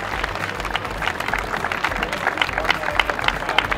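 Audience applause for the overall winner of all classes on stage at the Einbeck vintage car days 2022, a dense steady wash of clapping from a crowd lasting the whole stretch.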